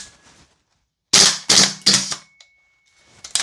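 A Salvo Precision MCX MWS gas blowback airsoft rifle fires a quick string of four sharp, loud cracks, each with a metallic bolt clack, separated by near silence.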